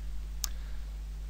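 A single crisp computer mouse right-click, close and brief, over a steady low electrical hum.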